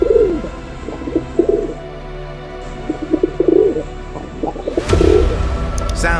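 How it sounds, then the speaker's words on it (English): Pigeons coo in a repeated pattern of soft, low, rolling calls, several phrases spaced across the stretch, close and clear, followed by a brief burst of louder broadband noise near the end. "They have a set pattern to their coos."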